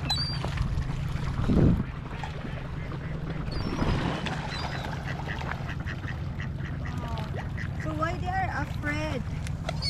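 Ducks quack at Lake Mead near Las Vegas during a feeding, with a cluster of close, loud quacks toward the end over lapping water and people talking.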